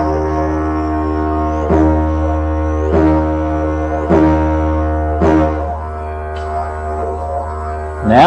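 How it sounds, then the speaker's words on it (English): A continuous didgeridoo drone broken by four sharp percussive tongue clicks at roughly one-second intervals, followed by a rising, wavering tone near the end. "resting my tongue on the roof of my mouth"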